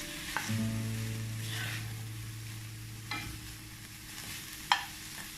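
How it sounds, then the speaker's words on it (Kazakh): Meat frying in a pan for buckwheat with meat as tomato paste is stirred through it, under a soft sizzle and a low steady hum, with a few sharp utensil knocks, the loudest near the end. "Томатын салып, томатының пастаны жақсылап тұрып араластырамыз."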